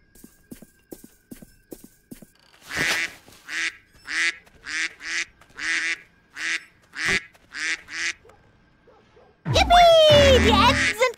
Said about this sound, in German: Die Enten sind gefangen!